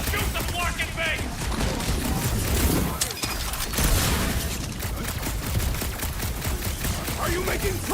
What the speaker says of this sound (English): Just shoot the blocking base!